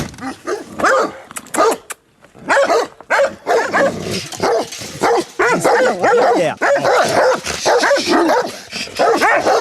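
Several dogs bark and yip excitedly in rapid bursts, close and loud, with brief whimpers between volleys.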